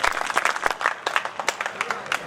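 An audience at a Hindi kavi sammelan (poetry gathering) in Pandhurna, Madhya Pradesh, marking a former chief minister's birthday, applauds with dense, continuous hand clapping that stays fairly loud and even for the whole stretch.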